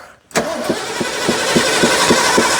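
An old engine on a tourist railway in the Loir valley is cranked to start: after a short silence, a loud burst sets off a steady series of rhythmic cranking chugs that rise slightly in level over about two seconds.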